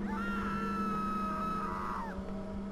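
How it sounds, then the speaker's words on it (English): A drawn-out, high wavering scream in the horror video game Bunker 16, rising and holding for about two seconds over a steady low droning hum, loud and close, with no talking. "Comforting sound of screaming."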